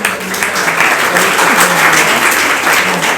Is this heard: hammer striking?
no